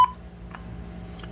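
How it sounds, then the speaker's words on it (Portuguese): Short electronic beeps from a Flytec 6010 variometer, a sharp tone at the start then two faint brief bleeps spaced about two-thirds of a second apart over a low hum. "Pode de repente emitir um ou outro bip perdido"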